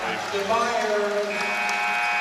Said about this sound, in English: Myers at the buzzer